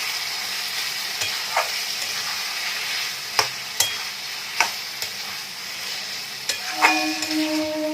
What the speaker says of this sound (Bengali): গ্যাসের ফ্লেমটাকে মিডিয়াম করে দিলাম। দিয়ে এখন চিকেনটাকে একটু ভালো করে আগে কষে নেব।